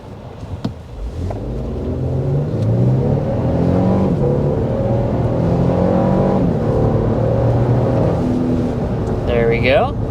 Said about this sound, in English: We're going to try an acceleration from a stop here.